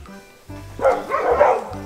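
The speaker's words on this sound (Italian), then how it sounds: "questi cani che abbaiano sono lontani" Several dogs bark far off outdoors, a cluster of muffled, overlapping barks rising over about a second, faint against the open-air background.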